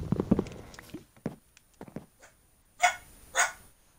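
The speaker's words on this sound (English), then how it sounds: "There's a dog barking." A dog barks in another room, a few muffled vocal bursts early, then two sharper, louder barks near the end, with footsteps and faint whimpering between.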